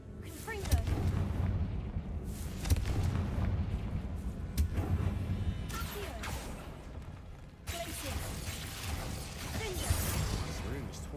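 A Confringo explosive spell cast in a Harry Potter video game, setting off heavy booming blasts and rumbling impacts in a dense, noisy scene while a voice speaks.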